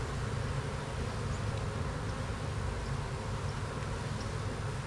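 Honey bees drone in a continuous, even buzz inside a sparsely populated hive, the sound close and steady throughout with no voices.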